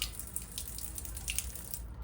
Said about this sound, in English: It is the Mehmed Pasha Sokolovic fountain from 1578